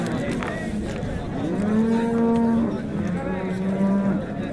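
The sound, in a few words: cow mooing at a livestock market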